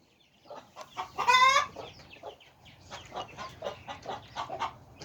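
A hen clucks steadily around a feeder with her chicks nearby, giving soft, repeated clucks and one brief louder squawk early on. The sounds are close and moderately quiet, with no talk over them.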